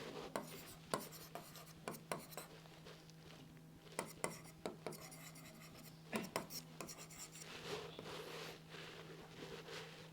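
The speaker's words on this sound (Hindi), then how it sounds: "चलिए उसको लिख देते हैं।" Chalk or pen scratching across a board during a classroom lesson, a faint series of short strokes and taps in uneven rhythm over a steady room hum, with someone speaking quietly at times.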